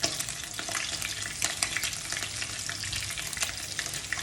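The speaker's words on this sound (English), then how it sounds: "Fry it for a minute or two on each side and remove it." Climbing perch, Bengali koi fish, frying in hot oil: a dense, bright crackle and spatter running steadily and fairly loud for several seconds, with no talking.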